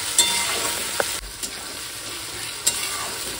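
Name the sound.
onions frying in pan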